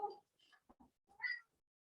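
A female cat gives a few short, close meows in a quiet room: a first call, two soft chirps, then a louder, drawn-out meow.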